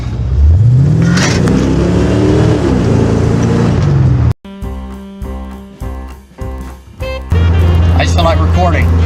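A C4 Corvette engine revs loudly and climbs in pitch while driving for about four seconds, then cuts off abruptly as music takes over.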